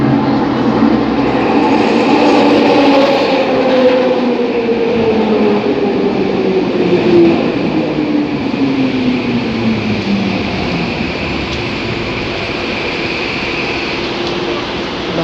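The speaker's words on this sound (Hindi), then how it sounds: "वो आ रही ट्रेन" A metro train passes along an elevated line in Vancouver on a cold, cloudy day, a loud continuous rumble with a long falling whine from its motors and a steady hiss under it, with no talk.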